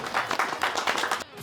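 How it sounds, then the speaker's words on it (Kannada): Brief burst of moderate applause from a small group, rapid scattered claps for the winning team of a game, ending abruptly. "ಮೇಡಮ್ ಟೀಮ್ ಬರಲಿ ಅವ್ರಿಗೆ ಜೋರ ಚಪ್ಪಾಳೆ."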